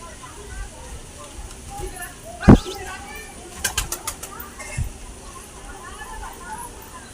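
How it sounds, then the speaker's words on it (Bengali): Giribaz pigeons coo softly amid a loud wing flap and a quick run of flutters, with faint ambient noise around them. "আমার পায়রা ছাড়ার পর আমার গিরিবাজ খুব দুটো ব্রিডিং করছে"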